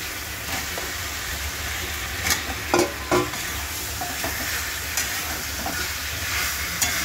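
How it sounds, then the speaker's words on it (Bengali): Chicken fries in a spiced onion and potato mixture with a loud, steady sizzle, broken by a few scraping clanks of a spatula stirring the pan, close and continuous. "এবার চিকেন দিয়ে এটাকে কষাচ্ছি"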